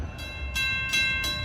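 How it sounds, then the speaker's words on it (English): A Long Island Rail Road Central Branch shuttle train running from Babylon to Hicksville rumbles along with a low steady roar and a few quick rhythmic clatters, heard briefly from trackside. "our last train we'll see today at 6:43 is 9263, Babylon to Hicksville"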